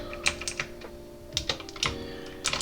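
Code typed on a computer keyboard: close, irregular bursts of key clacks with short pauses between clusters and no voice over them.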